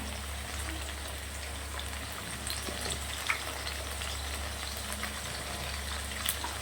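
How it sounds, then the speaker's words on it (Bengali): Potatoes fry in hot oil in a wok, giving a steady, soft crackling sizzle with scattered pops throughout, under a low constant hum, with no talking. "কড়াই তেল গরম করে আলুগুলো ভেজে নিচ্ছি।"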